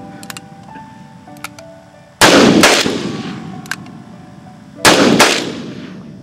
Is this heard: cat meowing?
no